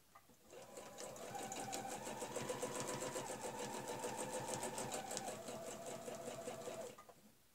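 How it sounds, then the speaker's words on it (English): A sewing machine stitches steadily along a centre line while piecing a Fleur-De-Lys ruler block, its rapid rhythmic needle chatter and motor hum running continuously for several seconds before stopping, close and alone. "I'm going to stitch to that centre line."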